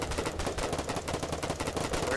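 Rapid gunfire in the video game Foxhole rattles in a steady, fast stream of close shots, with players' voices talking over it.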